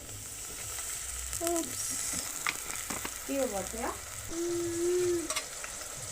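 Onions frying in oil on a jiko give a steady, close hiss, with occasional stirring clatter and a brief spoken phrase partway through.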